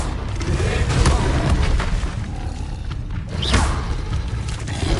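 Confringo blasting spell going off in Hogwarts Legacy, dull booming impacts and rumbling bursts amid dense, loud combat noise, with a voice calling out spell names.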